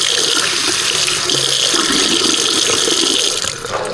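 A bathroom sink faucet runs steadily at close range, a bright continuous hiss of flowing water splashing into the basin, easing slightly just before the end.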